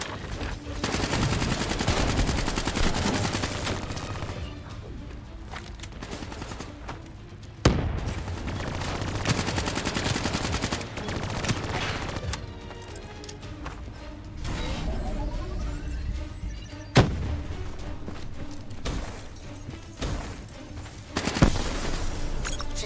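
Sustained turret and automatic gunfire in the Call of Duty: Black Ops 3 campaign, with rapid bursts, sharp impacts and explosive booms rising and falling across a busy combat scene and no talk over it.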